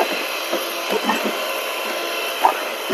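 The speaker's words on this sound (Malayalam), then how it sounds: "കോഴിമുട്ട ഒന്ന് പതഞ്ഞു വരുന്ന വരെ ബീറ്റ് ചെയ്യുക കേട്ടോ" An electric mixer whirs steadily while beating eggs with sugar for a vanilla cake batter. Small knocks and clatters from the bowl break through the continuous motor whine.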